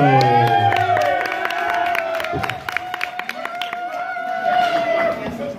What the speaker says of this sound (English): Let's give a huge round of applause to Robert Russo.